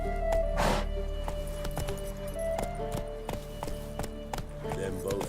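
Roach the horse gallops in The Witcher 3, a steady run of close rhythmic hoofbeats with jingling tack, plus a brief swooshing burst early on.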